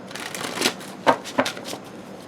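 Tarot cards being shuffled and handled, a steady papery riffle with a few sharper slaps and flicks of the cards, close to the microphone and alone.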